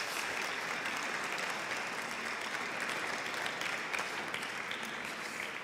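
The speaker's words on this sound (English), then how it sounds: "So applause for the winning bidder," Audience at a gala benefit auction applauding the winning bidder, a dense, even burst of clapping from many hands that fills the room for several seconds, close and steady with no talk over it.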